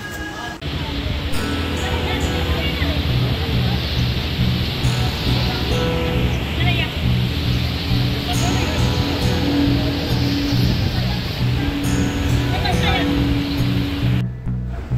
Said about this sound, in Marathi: विस्तीर्ण पसरलेला समुद्र किनारा, पांढरी शुभ्र वाळू आणि आता फेसाळणाऱ्या पांढऱ्या लाटा